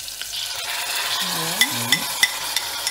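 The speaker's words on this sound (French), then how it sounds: "je vais faire revenir dans de l'huile d'olive, de l'oignon et de l'ail" Onion and garlic frying in olive oil with a tomato compote, a steady sizzle with a few sharp utensil clicks as the pan is stirred; a brief voice is heard.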